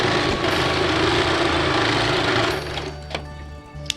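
A sewing machine runs fast and steady while stitching folded piping fabric onto the inside of a puff sleeve, a loud continuous whir that stops partway, followed by a few soft handling clicks.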